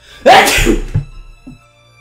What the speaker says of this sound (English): remember that I'm going to sneeze